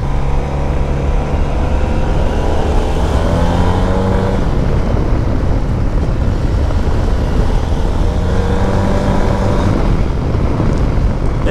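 A motorcycle engine revs in two rising sweeps over a loud, constant roar of wind noise from riding.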